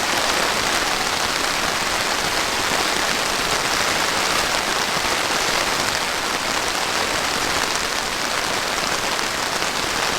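Heavy rain drums steadily on a camping tent tarp, a dense, loud, unbroken patter filling the whole stretch with no letup and no voices.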